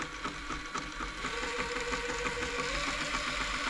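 An Elna Club Computer 500 sewing machine runs up to speed after servicing, giving a steady mechanical whirring hum with a fast rhythmic ticking. It stays close and even throughout.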